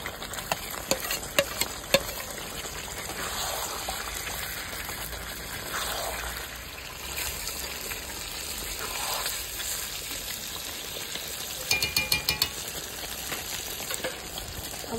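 Potatoes frying in a pan of curry give a dense, continuous sizzle and bubbling, with scattered clacks of a spatula stirring, heavier clatter near the end, and no talking.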